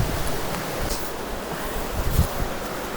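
A river flowing near waterfalls in Wales where the stream splits, a steady broad rushing wash of water, fairly close and continuous with no voices.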